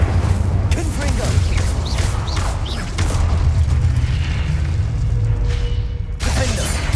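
Confringo explosion spell cast in Hogwarts Legacy, a loud, dense fiery blast with booming low rumble and crackling bursts that roll on for several seconds, with a fresh sharp burst near the end.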